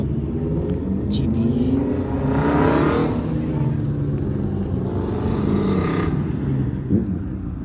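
Vintage Ford GT engine revving at a car show of antique cars, a sustained loud rumbling roar with rising and falling harmonics, people chattering in the background.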